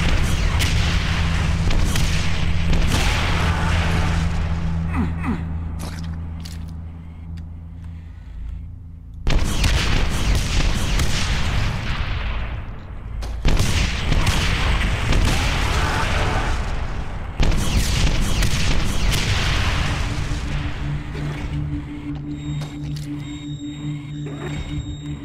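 Rocket launcher explosions in Brutal Doom 64 on the level The Lair, loud booming blasts that each sound suddenly and roll on into long, heavy rumbling tails, recurring several times.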